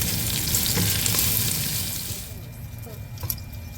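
Bacon fries in a pot with a steady, close sizzle and crackle that fades partway through, leaving a quieter stretch with a few light clinks.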